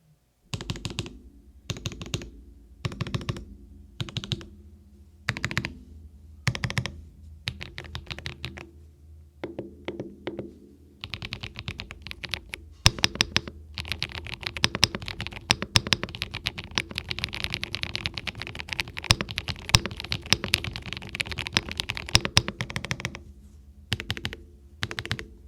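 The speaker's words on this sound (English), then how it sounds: "here's how the keyboard sounds" A Spectre 75 mechanical keyboard is typed on up close: first separate clacky keystrokes in short bursts, then a dense, fast run of continuous typing, with no talking.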